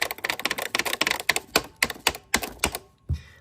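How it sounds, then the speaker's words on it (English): Keys clatter on a Nintendo Family Basic keyboard, a quick run of close plastic key taps that slows into separate presses near the end, with no talk. "That's a Nintendo keyboard right there."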